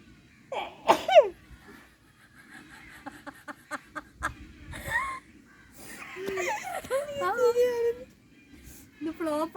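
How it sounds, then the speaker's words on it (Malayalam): Sharp, sudden sneezes burst out during a sneezing challenge at home, mixed with lively talking, giggles and excited voices throughout. "ഞാൻ രണ്ട് തുമ്മി"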